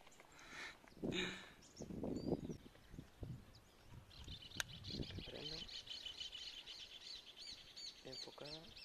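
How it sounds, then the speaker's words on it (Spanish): A cardinal chirps in the open countryside during a hunt with a dog, a run of short bright calls repeating through the second half, mid-distance over wind and rustling, with brief speech-like sounds early on. "Ahí anda un cardenal."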